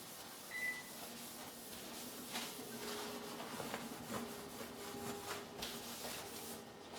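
A budget guitar body being stripped of its finish down to bare wood, with quiet repeated rubbing and scraping strokes over a faint steady hum, close and low in level.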